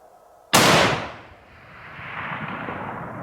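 A single sharp rifle shot rings out on a backcountry bull elk hunt, loud and sudden, then rolls away in a long fading echo across open terrain, with no voices over it.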